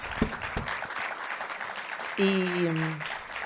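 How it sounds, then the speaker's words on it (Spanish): Steady applause from a crowd after a lecture fills the room throughout, with a sustained hum or tone joining partway through. "le damos un gran aplauso"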